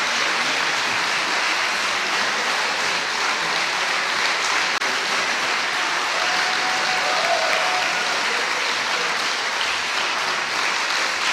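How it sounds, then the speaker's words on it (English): A sustained round of applause for medalists at a sword-fighting tournament, a broad unbroken wash of many hands clapping that fills the hall steadily throughout. "Give them one more round of applause."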